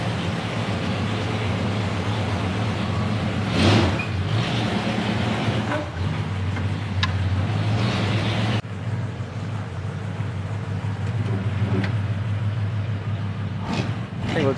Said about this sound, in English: The exhaust sounds nice. Nice little rumble.